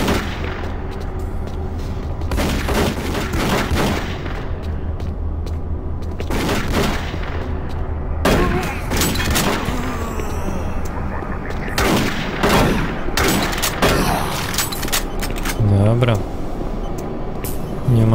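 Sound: gunshots in a video game

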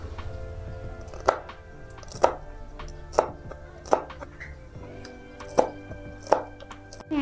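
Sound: knife chopping green chillies

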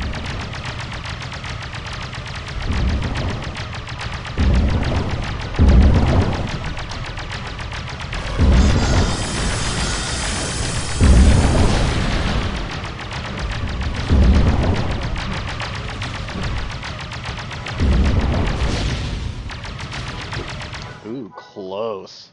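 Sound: max level grenades exploding in video game SWG Legends

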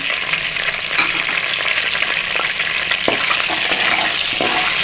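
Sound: green peas frying in a pan for spinach curry

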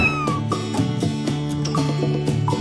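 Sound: cat meowing at a cat hotel

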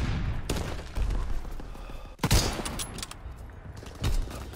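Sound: gunfire in the video game WAR

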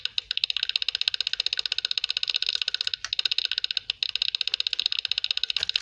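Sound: rapid mouse clicking playing Cookie Clicker

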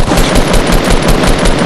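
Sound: gunfire in the video game Fortnite

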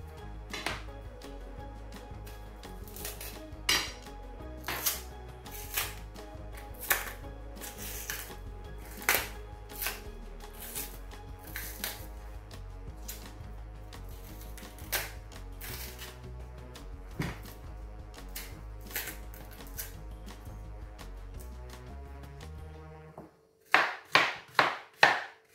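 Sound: knife cutting unripe plantain

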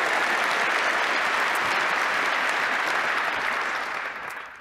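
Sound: keynote audience round of applause for maintainers

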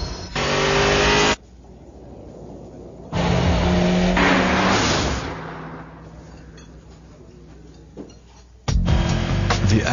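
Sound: Acura RSX Type S car engine revving

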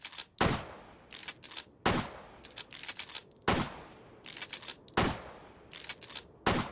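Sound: gunshots in Hot Dogs, Horseshoes & Hand Grenades VR video game

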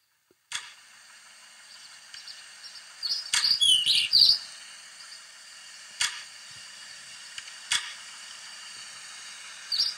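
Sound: birds chirping

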